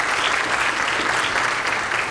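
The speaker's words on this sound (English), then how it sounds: "I hope that you could all give them a round of applause because they deserve it" An audience at a multiple sclerosis symposium applauds, a brief, dense, steady burst of many hands clapping together, loud and even throughout.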